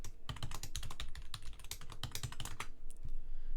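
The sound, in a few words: typing on a computer keyboard to SSH into a server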